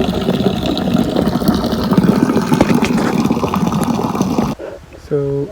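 Water is collected from a spring in a forest, with a steady splashing, trickling flow up close for several seconds before it cuts out. A short low tone follows at the end.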